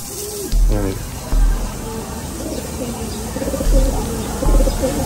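Racing pigeons coo in several low, throaty bursts, mixed with other bird calls and a steady background hiss, while a person talks nearby.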